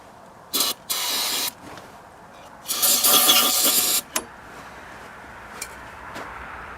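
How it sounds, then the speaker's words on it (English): Starting fluid is sprayed into the engine of a 1966 VW Beetle in several short, sharp hissing bursts, the longest about a second, separated by quiet gaps and small clicks. "giving it a little booster with some starting fluid"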